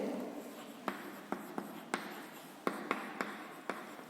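Writing on a classroom board, a quiet sequence of crisp taps and short scratchy strokes, about a dozen distinct marks, close and fairly faint with no voice.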